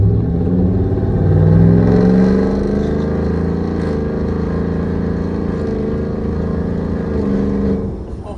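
A car engine fitted with SPD high flow catalytic converters revs at half throttle, a loud, steady droning exhaust note that swells slightly early on, holds, then drops off at the end.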